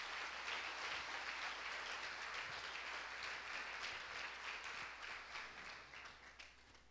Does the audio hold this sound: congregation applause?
yes